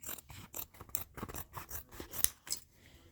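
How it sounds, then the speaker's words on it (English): Good scissors snip through real leather for a homemade watch band, a run of crisp, close cuts in an uneven rhythm, each a short rasping chop with brief pauses between. "Let's get these good scissors."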